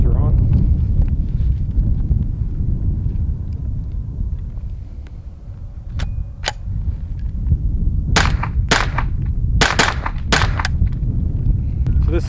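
Several sharp unsuppressed .22 Long Rifle gunshots crack outdoors in the second half, spaced irregularly over steady wind noise on the microphone.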